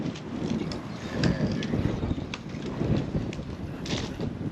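Wind buffets a microphone outdoors at an off-grid home during crawlspace work, a steady low rumble that swells in gusts, with faint clicks and knocks mixed in.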